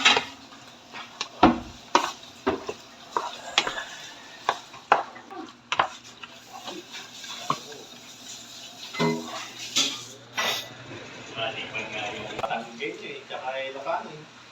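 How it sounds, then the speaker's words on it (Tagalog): Bicol Express being stirred in a cooking pot, with irregular clinks and scrapes of a utensil against metal and faint sizzling, while people talk over the cooking. "Halo-haloin lang."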